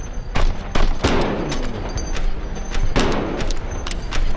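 Rapid gunfire in the VR shooter Hard Bullet, with loud repeated pistol and automatic shots and heavy booming reports in irregular bursts throughout, close and dense.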